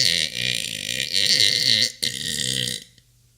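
A series of long, loud, croaking human burps, two drawn-out belches broken by a brief pause, then silence.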